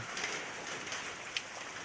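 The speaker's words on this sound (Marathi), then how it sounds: "आता पाऊस पण परत चालू झालो बारीक" A steady, faint hiss of light rain falls continuously in Konkan, with a single small drip or tap standing out briefly.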